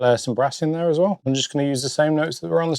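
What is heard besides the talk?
No distinct noise like a dog, phone or traffic.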